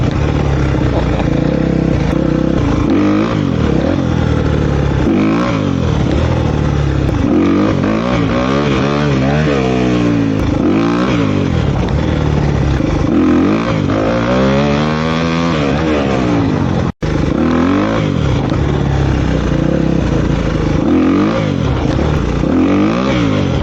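Motorcycle engine revving hard in first gear while lifting into a wheelie, loud and close, rising and falling in pitch with a continuous wind-buffeted roar throughout.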